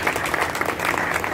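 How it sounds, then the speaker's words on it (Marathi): Enthusiastic crowd applause at a Marathi-language felicitation event honoring a swimmer's coach, a dense, continuous roar of clapping lasting just over a second. "त्यांच्याकरता जोरदार टाळ्या"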